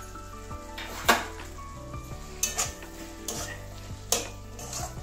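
Bitter gourd with chopped coriander is stirred in a pan, steady close sizzling broken by several sharp spoon scrapes and clinks against the metal, with no talk.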